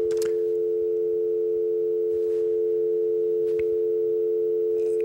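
A steady telephone dial tone hums on after a dropped call, continuous and fairly loud, with a few faint clicks and rustles along the way.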